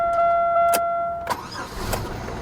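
An abandoned Mitsubishi 3000GT that had been running rough cranks briefly and its engine catches, settling into a steady idle close by, with a couple of sharp clicks and tonal chimes beforehand.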